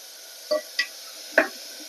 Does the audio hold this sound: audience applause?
no